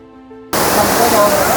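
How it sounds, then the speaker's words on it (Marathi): After a moment of soft music, the roar of a big waterfall at Amboli suddenly takes over, loud and constant. "मोठ्या धबधब्याजवळ आलो आणि आमचा उत्साह आता द्विगुणित झाला होता"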